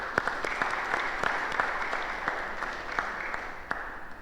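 Audience at a community centre meeting gives a round of applause, continuous and fairly loud, with distinct individual claps standing out against the steady wash of many hands.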